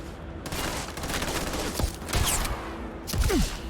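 A 700-damage sniper rifle fires in Starfield, producing a few loud, separate shots spaced about a second apart over steady background game ambience.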